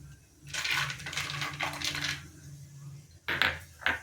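Peanuts tipped into hot oil already holding mustard seeds and cumin, giving a near, bright rattling clatter of pieces hitting the pan, then crackling and two short sharp bursts near the end, with no talk.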